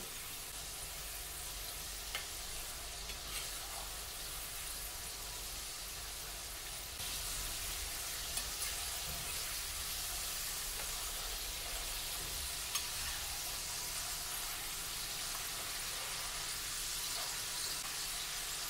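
Potato finger chips deep frying in hot oil give a continuous dense hiss and crackle, close and steady, rising slightly in loudness partway through, with no voices.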